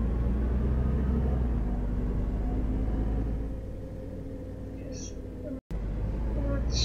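A MAZ 215 bus in OMSI 2 rumbles along with a low engine drone that eases off partway through as it slows and brakes, followed by a brief dropout and faint high chimes.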